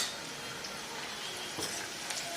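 Brinjal with chilli, turmeric and goda masala frying in oil gives a steady, soft sizzle with a couple of faint stirring clinks, continuous and fairly quiet, with no voices.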